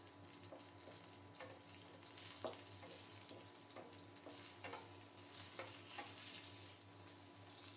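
Whole cumin seeds and a bay leaf frying in hot oil as a tempering for a rohu fish curry, a faint, steady hiss with small soft crackles and occasional light stirring taps, no speech.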